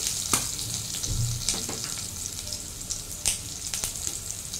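A hilsa fish head fries in oil seasoned with salt and turmeric, giving off a steady close sizzle with occasional scraping stirs of a spoon in the pan.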